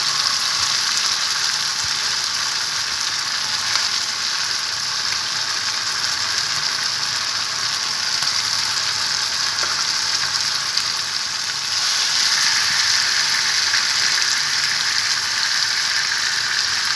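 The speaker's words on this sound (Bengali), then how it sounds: "এবার আমি দিয়ে রাখা মাছগুলোকে এক এক করে দিয়ে দিতেছি" Pangas fish pieces sizzle steadily in a pan of cooked-down spice paste, a loud continuous frying hiss with faint scraping, growing slightly louder partway through.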